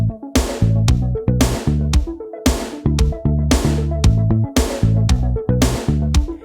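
Indie pop beat in a nostalgic style, with steady punchy drums and a deep bassline repeating in a regular loop, loud and with no vocals or talk.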